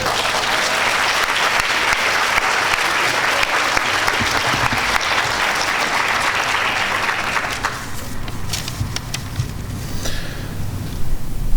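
An audience at a World Environment Day gathering in Portland, Oregon claps loudly and steadily. The applause thins into scattered claps toward the end.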